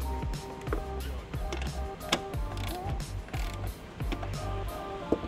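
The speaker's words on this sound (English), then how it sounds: "We'll take our ratchet. Just hit them once." A ratchet tightens the trailer wiring bolts on a 2011 Chevy Equinox, giving close, repeated clicking pawl ratchets in quick bursts with occasional metallic knocks and creaks.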